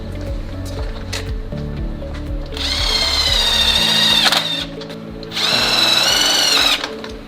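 A power drill drives 3/4 inch self-tapping screws through pre-punched holes into metal angle to mount screen tracks, in two sustained loud whining bursts of a couple of seconds each, separated by a short pause.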